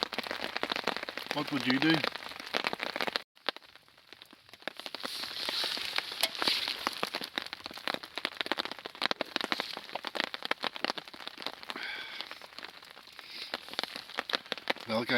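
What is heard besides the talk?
rain during a lightning storm while hammock camping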